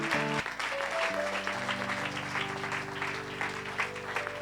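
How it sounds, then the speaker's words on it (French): Congregation at a French-language evangelical gospel service cheering and clapping in acclamation, a dense steady roar of applause and shouts with sustained music tones underneath throughout. "Donne une grande acclamation à Jésus-Christ."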